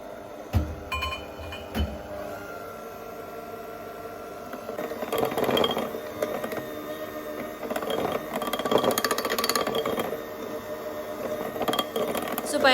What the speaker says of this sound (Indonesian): Kuning telurnya akan kita mixer sampai rata saja